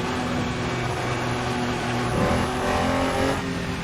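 A car engine drones steadily in the Assetto Corsa racing game on the LA Canyons mod, holding a sustained tone that rises slightly as it revs through twisty corners, with no talk.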